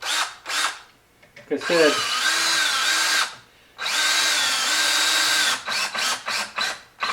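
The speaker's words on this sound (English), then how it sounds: "just use standard deck screws to secure it to the bottom of the block" Power drill driving standard deck screws into a white cedar block to fasten a brace under a carving decoy body: loud whirring bursts with ratcheting clutch clicks, stopping and restarting several times, with brief speech between.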